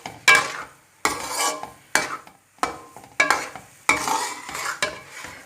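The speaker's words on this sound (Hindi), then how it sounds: "अब इसे हम इतना भुनेंगे कि बिल्कुल कढ़ाई से अलग होना स्टार्ट हो जाए सूजी।" Semolina halva roasting in a kadai after the milk has dried out, stirred with a spatula in repeated scraping strokes about once a second, each pass giving a close, gritty rasp against the pan.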